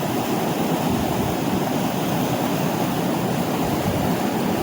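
A mountain stream in the Pyrenees rushes close by, a loud, steady broadband roar of flowing water with no pauses and no voices.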